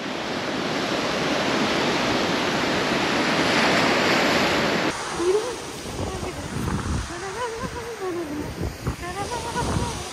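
Ocean waves wash up a beach in Portugal in a loud, sustained rush that cuts off abruptly, leaving softer lapping water and wind with a person's voice talking over it.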